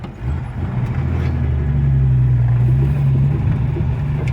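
A 1988 Jeep Wrangler Laredo engine running while burning oil, a steady low rumbling drone that swells after a moment and holds loud and close for several seconds, with no talking.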